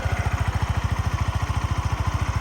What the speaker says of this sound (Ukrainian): М'якенько, тихенько працює жодних зауважень по роботі двигуна.